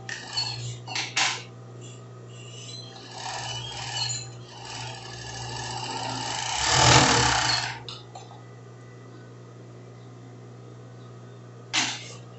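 An overlock sewing machine stitches a lined tank dress in short bursts of whirring, with a longer, louder run in the middle, then quiet with a final brief burst.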